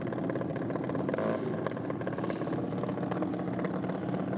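A junior dragster engine fired up again after carburetor work at a drag racing event, running in a steady, close, buzzing idle that holds level throughout.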